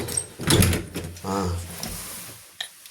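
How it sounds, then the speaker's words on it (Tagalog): A house door in the UK swings shut with a solid thud early on, followed by a short murmur of voice and quieter room noise. "Saka natin sasarado yung pintuan."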